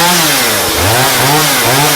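A chainsaw engine runs loud and close after a slight choke adjustment, its rough buzzing drone rising and dipping with throttle changes, with no talking.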